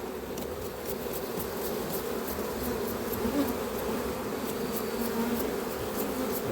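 A dense swarm of honeybees hums steadily around an open beehive, a close, continuous buzz that stays even throughout with no voices.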